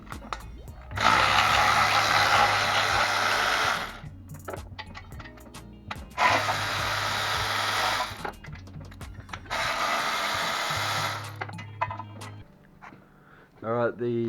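Ratcheting tool work from underneath a Barra engine while unbolting the exhaust extractors at a two-bolt flange, with three long bursts of rapid clicking separated by pauses, close and fairly loud.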